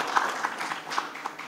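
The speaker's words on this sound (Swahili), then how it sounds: "aliotufanyia kazi hii nzuri, muona Dr. Muba, makofi kwao tafadhali." Audience applause at a Simba Sports Club bid-winners event: a steady, moderately loud wash of many hands clapping for about a second and a half, with no speech over it.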